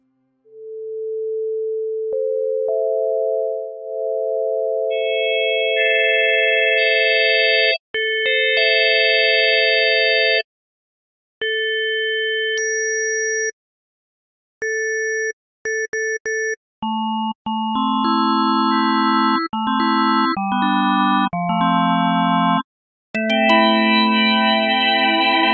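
Harmonic tones from a drawbar synthesizer app with up to 32 harmonic slots per waveform: sustained organ-like notes and chords, starting low and building into stacked, changing chords with short gaps, clean and loud with no talking.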